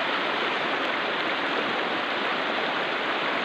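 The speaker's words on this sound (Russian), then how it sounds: "Придется его орать, потому что река орет." The Bukhtarma River roars in a constant, loud, dense rush of fast-flowing water, unbroken and close.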